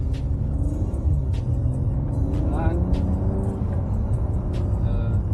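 BMW M340i xDrive 2020 driven on the road, a steady low engine rumble and road drone heard from inside the cabin, with faint voices over it.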